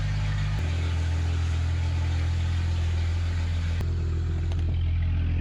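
A Jeep TJ's engine idles steadily up close, a deep, even exhaust rumble with a slight shift in tone partway through and no voices over it.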